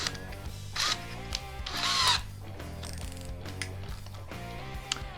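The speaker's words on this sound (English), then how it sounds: "start with drilling through some 4x4" A DeWalt power drill with a new 1/2-inch bit whines in short bursts, spinning up and biting into a 4x4 wooden post with a grinding, straining pitch before easing off, close and fairly loud.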